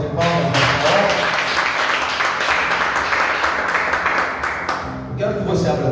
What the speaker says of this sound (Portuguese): Você pode louvar a Deus com uma salva de palmas nesta hora.